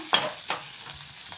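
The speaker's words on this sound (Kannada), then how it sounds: "ಖಾರಕ್ಕೆ ಹಸಿಮೆಣಸಿನ್ಕಾಯಿ, ನಿಮಗೆ ಖಾರಕ್ಕೆ ಎಷ್ಟು ಬೇಕೋ ಅಷ್ಟು ಹಾಕೊಳ್ಳಿ. ಇದನ್ನು ಫಸ್ಟು ಚೆನ್ನಾಗಿ ಫ್ರೈ ಮಾಡ್ಕೊಳ್ಳೋಣ." Green chillies frying in a pan for chicken donne biryani, with two distinct scraping stir strokes over a soft, steady sizzle; no talking.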